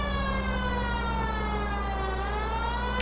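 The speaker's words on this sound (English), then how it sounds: "Oh, look, there's a siren." A police car siren from the 1940s Los Angeles crime game L.A. Noire wails steadily and loud throughout, its sweeping tone riding over a constant low engine drone.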